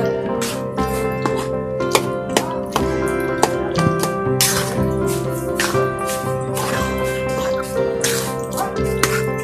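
Raw mango pickle is stirred in a pan over very low heat, with soft wet squelches and scraping clicks repeating steadily beneath a constant tonal background.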